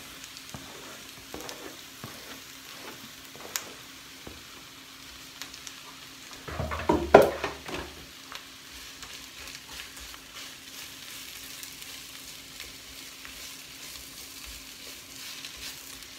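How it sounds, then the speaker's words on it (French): Onions hit a pan preheated with a little olive oil and sizzle loudly for about a second, then settle into a quiet, steady frying crackle with occasional faint clicks. "je vais mettre ceci dans une poêle que j'ai fait chauffer avec un petit peu d'huile d'olive et on va verser les oignons dedans"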